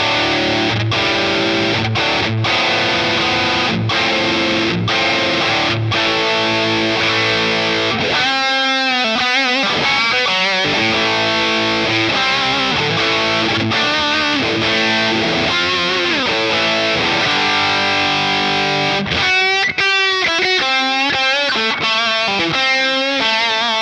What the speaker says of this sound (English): That's a rock and roll amp, really, with that kind of distortion.